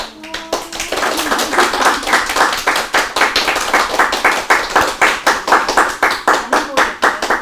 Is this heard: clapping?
yes